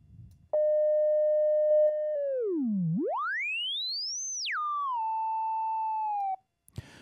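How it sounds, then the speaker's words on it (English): A pure sine tone from a self-oscillating, full-resonance filter on an Access Virus TI synthesizer holds steady, dips low, sweeps up high, then settles back to a steady pitch, loud and alone for several seconds. "if I turn up resonance all the way, the filter will produce a sine wave"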